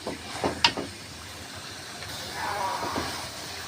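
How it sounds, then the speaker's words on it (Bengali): Meat cooked down with spices in a pan gives a steady, moderately loud sizzling hiss for a few seconds, with a couple of brief clinks near the start and the sizzle swelling slightly toward the end. "এখন গোশটাকে ভালোভাবে কষিয়ে নেব।"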